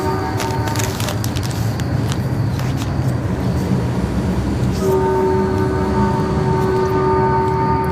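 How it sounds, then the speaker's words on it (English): A very loud train rumbles past close by, with a continuous roaring clatter of rail cars and a sustained horn-like tone sounding in the second half. "I brought this really loud train for you."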